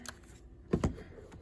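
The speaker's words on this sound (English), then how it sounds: "typing this in on my calculator" A calculator keypad tapped with a few quick, soft clicks, including a close double press, faint and alone without speech.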